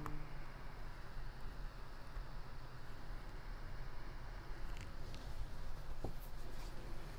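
A math graph is drawn by hand while a problem is solved, giving a steady, close scratch of pen on paper that runs through the whole stretch with a few brief sharper strokes and no talk.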